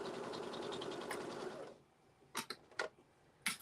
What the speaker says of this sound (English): I am just sewing exactly on the lines